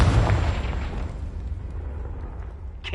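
A Confringo blasting spell detonates in Hogwarts Legacy, a loud booming explosion at the start that rolls into a long rumbling decay, with a brief sharp crack near the end.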